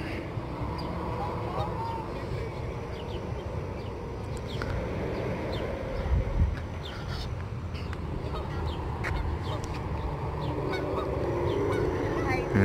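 Ducks and geese honk and quack in a busy, continuous chorus at a city riverside park in downtown Chattanooga, with general outdoor background noise and people talking nearby.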